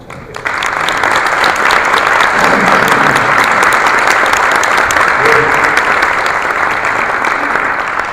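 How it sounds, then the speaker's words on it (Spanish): A large audience breaks into sustained, loud applause to welcome a guest speaker at a neuroscience talk, a dense wash of clapping that swells quickly and holds steady throughout. "les pido un fuerte aplauso para recibir a Miguel Ángel Concha"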